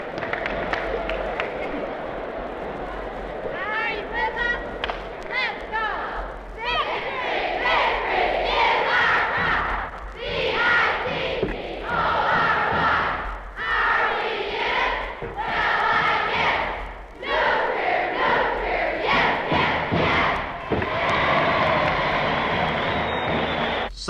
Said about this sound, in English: Now let's have everybody up for the victory cheer and yell like you really mean it.